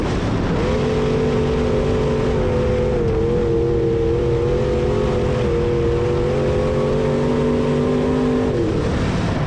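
A B-mod race car lapping Springfield Raceway, its engine holding a loud, steady droning note at high revs with slight pitch shifts, close and continuous for several seconds.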